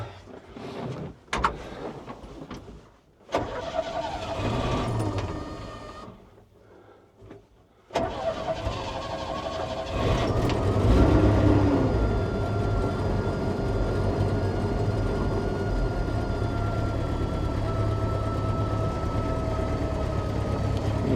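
A Bombardier Bombi tracked vehicle engine fitted with a Holley Sniper 1100 fuel injection cranks and catches after a few stumbling tries, then settles into a steady, loud idle heard nearby with no talking.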